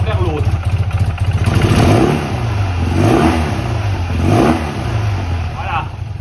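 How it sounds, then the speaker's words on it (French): BMW R80 R motorcycle boxer engine idling then given repeated throttle blips, each rev rising and falling in smooth sweeps, loud and close with someone talking over it. "maintenant, on doit pouvoir donner des coups d'accélérateur qui doivent être linéaires"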